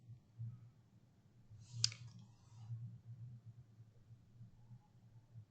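A single faint, sharp computer mouse left-click, heard once near the start over a quiet low hum in an otherwise still room.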